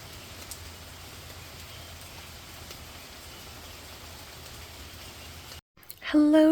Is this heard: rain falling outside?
yes